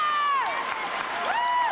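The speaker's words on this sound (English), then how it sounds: "Let's hear what the crowd does." Basketball crowd at a high school game cheering and roaring for a player as he comes out, a loud sustained wall of voices with high whistles or shrieks rising and falling throughout.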